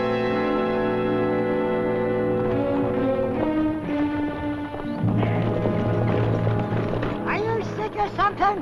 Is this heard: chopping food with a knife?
no